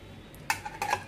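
Dishes, pots and bowls clinking as they are handled before washing, two quick bursts of soft metallic clatter close by in an otherwise quiet room.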